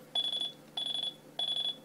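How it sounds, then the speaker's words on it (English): A Sony Dream Machine alarm clock buzzer sounds three evenly spaced electronic beeps, each a clear high tone about a third of a second long, heard close in a quiet room. "That's the most intense buzzer."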